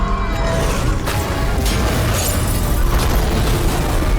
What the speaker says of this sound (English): There's a violent explosion.